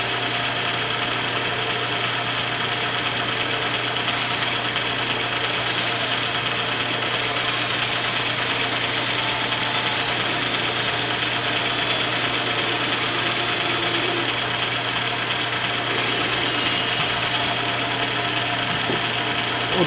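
A machine drill runs continuously with a steady mechanical whine and hum, unchanging throughout, no voices.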